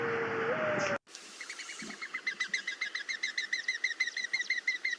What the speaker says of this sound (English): That's the noise of the wings when they're taking off.